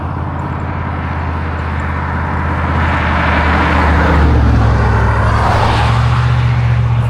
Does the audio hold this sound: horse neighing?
no